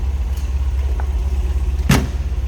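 A 1972 MG MGB's 1.8-liter inline-four engine idles with an even, low rumble, close by. A single sharp click sounds near the end.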